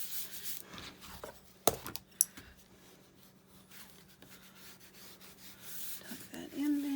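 Excess glue is rubbed off a book spine during bookbinding, a faint, soft scrubbing with a couple of sharp little taps partway through, quiet and close.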